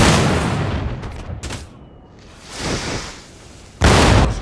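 Cannons firing on enemy militia in the Empire: Total War battle, with deep booming blasts and rumbling explosions rising and fading, then a heavy fresh burst at the end.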